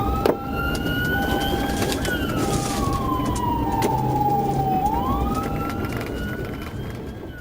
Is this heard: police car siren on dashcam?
yes